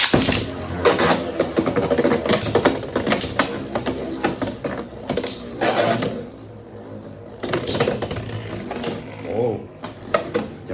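Beyblade X spinning tops grind and clash in a stadium, making a dense, rattling mechanical whir with sharp ticks, then a pause and a second burst of clatter. Someone talks over parts of it.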